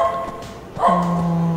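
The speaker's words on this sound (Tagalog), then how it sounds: "Ingay ng aso." A dog gives a short bark that turns into a drawn-out, whining tone, fairly close and clear over faint background noise.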